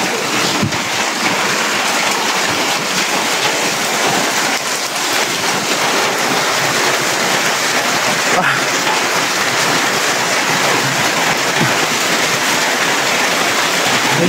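Steady rain falls close by at night in a rural village, a dense continuous hiss with wind gusting against the microphone and a brief voice speaking.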